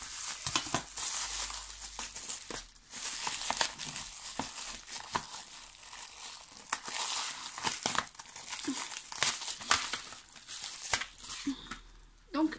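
A well-taped parcel is torn open by hand without scissors, with crinkling paper and ripping tape in irregular bursts, fairly quiet, while a person talks throughout.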